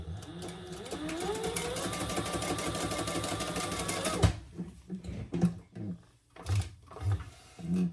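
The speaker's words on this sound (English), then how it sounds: "I'm going to fold that right sides together and just stitch down the sides" A sewing machine runs steadily, stitching a quarter-inch seam down the sides of folded fabric for a sling bag, a continuous close whir for about four seconds that then stops, followed by scattered clicks and handling noises.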